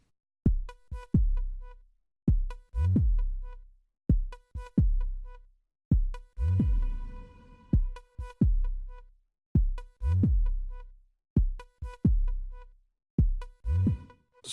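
A synthesizer patch called Android Heartbeat plays alone, repeating a double-thump beat with deep low thuds and bright tonal overtones, pulsing steadily and loudly in pairs.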